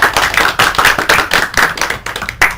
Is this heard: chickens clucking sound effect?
no